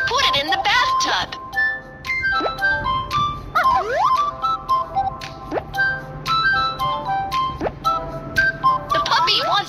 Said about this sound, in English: The puppy wants a bath.